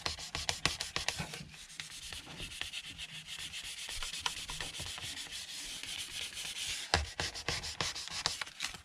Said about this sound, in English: I'm just going to use this piece of paper to just kind of burnish on top of here to remove any ink that's kind of shiny and excess ink